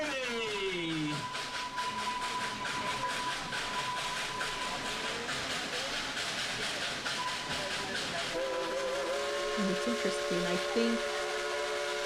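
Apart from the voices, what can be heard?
Dollywood steam train engine 192 Klondike Katie whistle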